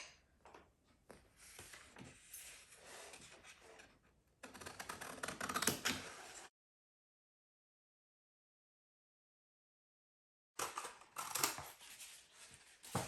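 Scissors cut a rectangle out of paper for a new book cover, with quiet snipping and rustling in two bursts separated by several seconds of silence.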